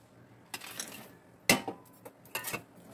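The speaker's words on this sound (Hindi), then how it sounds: "हम ये सारी मेवा इसमें अब इस समय डाल देंगे" Chopped cashews, almonds, coconut and halved makhana drop into a pot of pumpkin kheer, giving a few close, light clinks and clatters of nuts striking metal, with brief quiet pauses between them.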